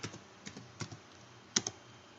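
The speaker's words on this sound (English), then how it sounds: "So here I'm going to type in backup." Computer keyboard being typed on in a short sequence of light, separate key clicks, a few paired taps spread over about two seconds, close and fairly quiet, with no talking.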